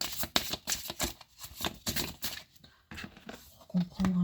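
Cards are shuffled and drawn for a tarot-style reading, with quick papery riffles and flicks at close range and a soft voice talking over part of the handling.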